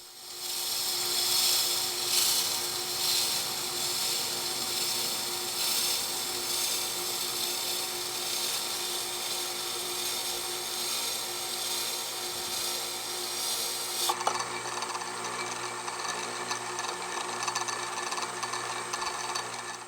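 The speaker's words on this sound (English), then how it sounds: "Check the blade periodically to verify that the angle is correct and the bevel is fully ground." Bevel of an American scythe blade being ground, a continuous abrasive rasping hum that runs steadily and close throughout, with a brief knock partway through and no voices.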